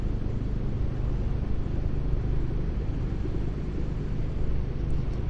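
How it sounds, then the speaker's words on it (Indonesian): A truck rolls by on a newly built road overhead, near an old historic bridge in Kertosono, heard as a steady, loud low rumble that holds through the whole stretch with no voices. "Nah itu jalan baru, ada truk lewat."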